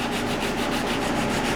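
Wood carving being smoothed with a handheld sanding block, giving a steady, continuous rasping rub that stays close and even throughout, with no talking.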